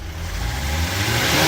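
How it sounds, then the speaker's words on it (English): A Hyundai Santa Fe engine with an overheating fault runs at a high, steady fast idle, its low hum holding constant and growing slightly louder over a second and a half. "So I've been revving this cab up on quite a fast idle."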